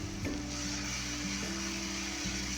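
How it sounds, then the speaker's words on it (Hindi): Garlic ginger paste frying with onions in a pan gives a steady close sizzle with a few scraping stirs and knocks, moderately quiet and without any talking. "2 से 3 सेकंड हम इसको फ्राई करेंगे प्याज के साथ इस तरीके से"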